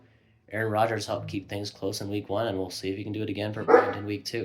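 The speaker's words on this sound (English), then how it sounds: "you'll have to excuse my dog barking in the background" A dog barks in the background, its yaps scattered and partly masked beneath a man's steady, close talking throughout.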